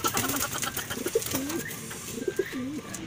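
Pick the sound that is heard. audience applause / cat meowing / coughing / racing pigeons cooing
racing pigeons cooing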